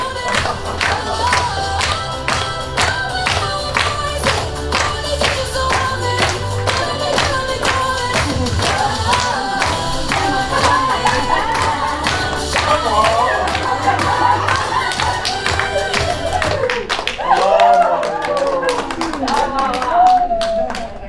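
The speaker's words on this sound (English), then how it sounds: "Give him a round of applause." A seminar audience in Jacksonville gives a sustained round of applause, dense clapping with scattered cheers and voices continuing throughout, fading toward the end.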